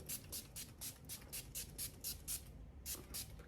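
A series of short, airy bursts from a fine face mist spray, about a dozen quick pumps in a steady rhythm with a brief pause near the end, close and fairly soft.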